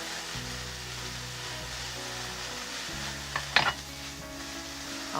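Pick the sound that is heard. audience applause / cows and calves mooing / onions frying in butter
onions frying in butter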